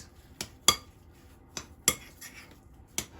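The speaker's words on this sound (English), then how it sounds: "Let's stir that in and see how it looks." A utensil stirs keto cheddar bay biscuit batter in a bowl, making a few sharp, separate clinks and taps against the dish at irregular intervals, close by and with no voices.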